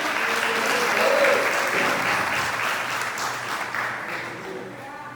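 A church congregation breaks into sustained applause that holds steady and fairly loud throughout, a dense wash of clapping.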